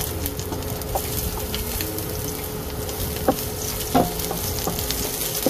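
Onion frying in a pan for a soupy home-style dish, a close, continuous sizzle with scattered stirring clinks and pops over it.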